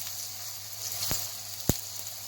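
Potatoes and carrots frying in hot oil in a karahi, a steady close sizzle with two sharp crackling pops standing out, no voices.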